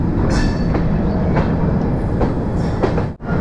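The Sealdah Jalpaiguri Road Express rushes through Ambari Falakata station at close range, a loud, continuous rumble of wheels with rhythmic rail clatter and brief metallic squeals, ending in a sudden dip as the last carriage clears.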